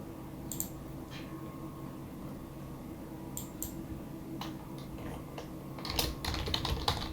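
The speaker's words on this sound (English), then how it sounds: "so I'm just going to type some password here" Quiet, irregular clicks of keys being typed on a computer keyboard in short bursts, close by over a low background hum.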